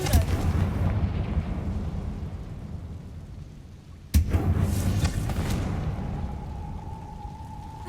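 A Confringo fire spell explodes in the video game Hogwarts Legacy, a sudden loud blast partway through set against a rumbling, thunderous game soundscape.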